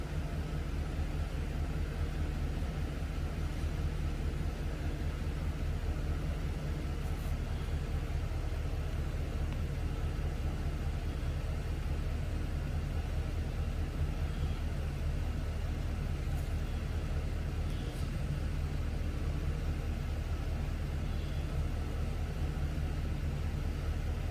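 A Chevy GMC 6.2 engine idles steadily at about 500 to 600 RPM, giving a continuous low rumble and hum with no change in pitch across the whole stretch and no talking.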